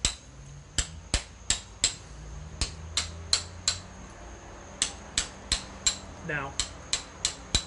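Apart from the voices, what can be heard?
hammer striking chisel shaping stone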